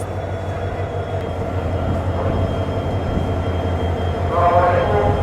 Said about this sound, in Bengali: আমাদের আজকের ট্রেনের locomotive three zero two one একটা ডিজেল ইলেকট্রিক